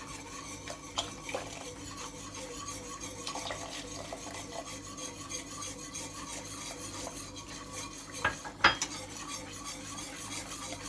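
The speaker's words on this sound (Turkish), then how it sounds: "Güzelce dibini tutturmadan karıştıracağız kaynayana kadar." A spoon stirs milk with cornstarch and vanilla in a pot for rice pudding, giving soft, steady scraping and light metallic clinks throughout, with one sharper knock near the end; quiet and close.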